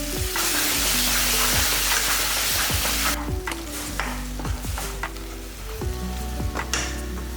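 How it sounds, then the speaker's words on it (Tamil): A paste of ground coconut and shallots sizzles and fries in a pan while a spoon stirs it, with repeated scraping strokes over a steady hiss that softens partway through. "அதனால் எல்லாமே இதிலே ஒன்றா போட்டு ஒரு வதக்கிடலாம்."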